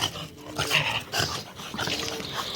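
Dogs growl and yip in a noisy scuffle, close by, with rough snarling bursts running together over a couple of seconds.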